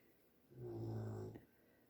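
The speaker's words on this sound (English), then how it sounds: "you're going to have to listen to that dog" A dog in the background gives a single drawn-out groaning, snore-like whine lasting under a second, moderately clear against an otherwise quiet room.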